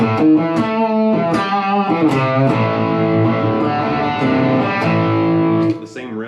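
Distorted electric guitar riff, looped and played louder with heavy gain, sustained chords and repeated figures ringing steadily and prominently for several seconds before cutting off.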